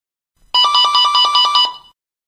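Yealink wireless USB phone ringing with an incoming VoIP call: a bright electronic ring of about eight quick pulses in one burst lasting over a second, close and loud, with no talk.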